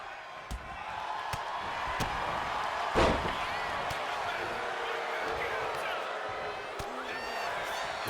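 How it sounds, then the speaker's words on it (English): In a televised pro wrestling match, a wrestler is slammed down onto the ring mat with one heavy thud midway, heard under continuous commentary and a steady roaring arena crowd. "Slamming him down."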